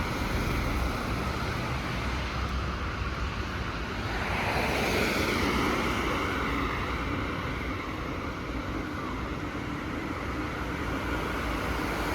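Steady broadband rush of river water flowing beside a walking path in Switzerland, continuous and fairly loud for the whole stretch with a wind-like hiss and no voices.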